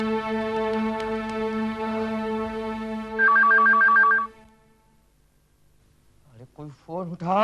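A telephone rings with a steady tone and then a trilling warble before stopping, followed by a pause and then a voice speaking.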